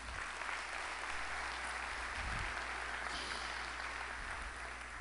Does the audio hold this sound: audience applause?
yes